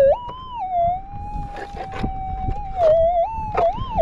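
Metal detector tone sweeping over a gold target in the West Australian goldfields, a sustained warbling pitch that rises and dips, fairly loud and close, with faint background noise.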